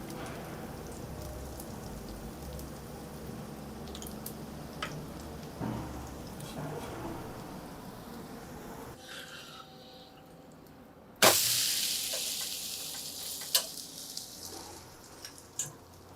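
Ghee poured beside a dudhi sweet corn moonglet cooking in a covered pan on low gas sets off a sudden loud sizzle that fades slowly, after a steady soft crackle and tick.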